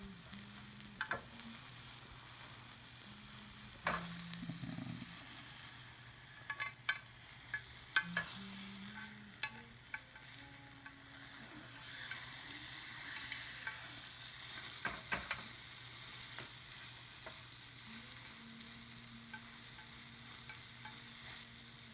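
Egg for tamagoyaki, a Japanese rolled omelette, frying quietly in a pan with soft sizzling, faint scraping and stirring taps, low and steady with no talking.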